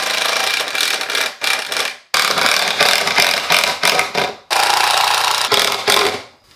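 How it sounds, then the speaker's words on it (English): Bolts being screwed into a homemade bike trainer in a garage, a loud close ratcheting tool clicking in rapid bursts, stopping and restarting several times. "Now we just need to screw these in."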